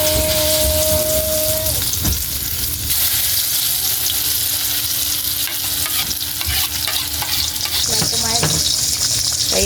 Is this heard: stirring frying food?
yes